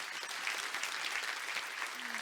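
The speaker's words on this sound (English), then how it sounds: "Please give a huge round of applause to Archway for this incredible gathering" Steady audience applause at a cultural diversity awards event, a dense patter of many hands clapping, moderately distant and continuous throughout.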